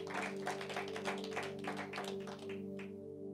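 A congregation claps together at a church worship service, rapid overlapping applause over sustained organ or keyboard tones, fading out near the end.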